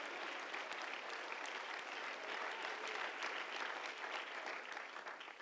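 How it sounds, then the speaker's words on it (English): A church congregation claps during a worship service, a dense, even wash of applause that holds steady from start to finish. "would you clap your hands and give Him glory and honor here in the house today?"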